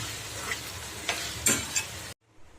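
Bread pieces stirred into a simmering chilli sauce in a pan, with a few soft scraping strokes and a faint sizzle close by, then a sudden stop into near silence.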